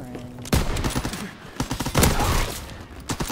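Loud bursts of gunfire in Call of Duty WWII crack out in rapid clusters of shots, close and sharp, with several volleys overlapping in quick succession.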